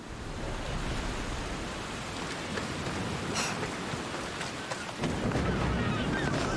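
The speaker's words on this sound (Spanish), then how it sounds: "Menuda tormenta está cayendo, loco" Steady heavy rain and wind hiss during a thunderstorm in the video game Assassin's Creed Odyssey, a dense continuous wash that swells slightly near the end with no distinct thunder claps.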